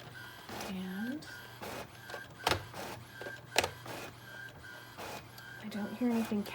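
A home printer runs through a journaling page, giving repeated mechanical whirs, rising motor sweeps and sharp clicks close by, while a person talks briefly over it.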